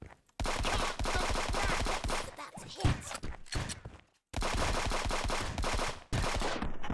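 Loud shotgun blasts and gunfire in the multiplayer shooter Friends vs Friends, in dense sustained bursts with short gaps, mixed under excited talking.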